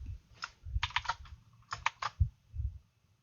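Rapid clicking of computer keyboard keys while typing code, in short irregular bursts of quiet, close keystrokes separated by brief pauses.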